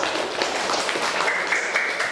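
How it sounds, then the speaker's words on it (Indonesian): Classmates clap for group 4 in a school lesson, an even wash of applause holding steady for a couple of seconds. "terus tepuk tangan untuk kelompok 4"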